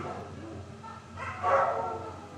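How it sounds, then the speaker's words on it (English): A dog barks briefly, a short sharp burst heard at moderate distance over low background noise. "Now my dogs are barking at something."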